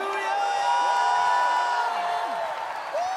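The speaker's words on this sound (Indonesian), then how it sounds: "Mari tanpa musik sorak-sorai yang panjang bagi Tuhan Yesus" A church congregation at an Ascension worship service sends up a long, unbroken wave of cheering, whooping and shouting with no music, dense and sustained throughout.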